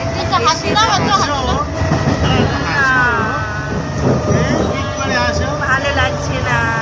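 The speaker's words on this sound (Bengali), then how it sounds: "আমরা গোঘাট লোকাল ট্রেনে উঠে গেছি।" Interior of a moving Goghat local passenger train, with steady rumbling carriage noise throughout and people talking over it.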